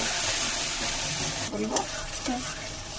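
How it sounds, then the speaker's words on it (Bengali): Ginger, green chili and mustard paste hitting hot oil in a pan while cooking a katla fish curry, giving a steady close sizzle with stirring scrapes partway through. "আদা, কাঁচা লঙ্কা বেটে নিয়েছিলাম, ওটা তেলে দিয়ে দিচ্ছি।"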